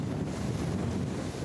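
Wind blows hard over the open sea off the coast from a motorboat, a dense, loud, steady rush buffeting the microphone for a brief moment.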